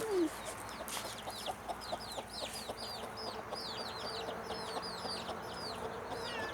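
Chickens cluck and call continuously inside a coop, with many overlapping bird calls at moderate distance and a steady barnyard background.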